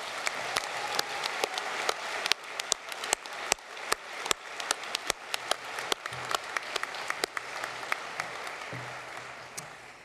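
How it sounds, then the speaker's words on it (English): A university graduation ceremony audience gives a round of applause for staff, a sparse but steady patter of individual claps in a large hall that thins and tapers toward the end. "Could you all please join me in showing your appreciation for these staff with a round of applause?"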